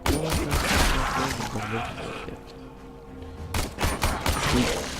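Gunfire in the video game Warframe, a burst of rapid close shots at the start, a quieter lull, then another cluster of sharp shots toward the end, with game sounds and possible speech mixed in.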